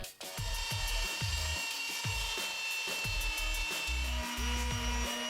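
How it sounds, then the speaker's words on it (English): A belt sander works a wooden log side table inlaid with copper wire in a loud, steady whine, with repeated rhythmic rasping passes and dips as the tool presses and lifts. "As soon as I started using the belt sander on the copper wire"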